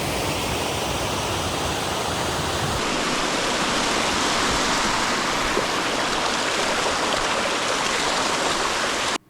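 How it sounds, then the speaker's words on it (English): A mountain creek roars through a narrow canyon in a wildland park, a steady, loud, unbroken rush of water. "A small trail snaked upward from the wildland border as the creek thundered through a narrow canyon to our right."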